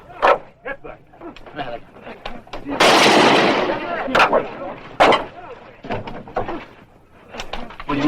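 A burst of gunfire cracks out in a 1956 Wyatt Earp western TV episode, a loud broadband blast near the middle followed by a few sharper single shots, with voices and a barking dog around it.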